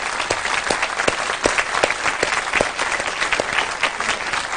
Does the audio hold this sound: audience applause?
yes